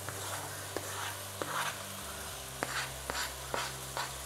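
Paneer bhurji sizzling and frying in a pan, a steady hiss throughout with several sharp clicks of utensils stirring at intervals, close and moderately loud with no talk.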